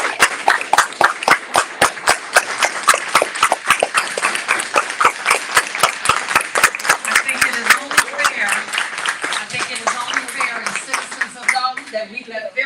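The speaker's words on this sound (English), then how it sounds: "Let's give our firefighters a standing applause." Standing ovation for firefighters at a Dolton political meeting: a crowd claps in rapid, sharp, evenly spaced beats that stay loud throughout, then fade out near the end with faint voices underneath.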